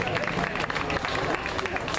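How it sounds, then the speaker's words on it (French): An audience at a children's radio singing contest award ceremony applauds a young singer, with dense clapping and crowd noise under loud voices speaking over it. "On l'applaudit très très fort."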